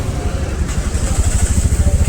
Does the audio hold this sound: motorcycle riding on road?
yes